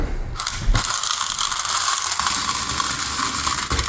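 A portable mechanical coin counter whirs and rattles steadily as quarters from laundromat dryers clatter through it, a continuous close-up churning sound.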